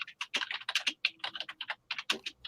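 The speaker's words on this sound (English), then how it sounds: "Someone's typing" Rapid typing on a computer keyboard, a dense run of close, crisp key clicks in an irregular rhythm with brief pauses, no voices over it.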